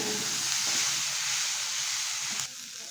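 Ginger-garlic paste sautéing in a pan for a semolina khichuri: a steady, loud sizzle and hiss, close up and continuous, easing slightly near the end.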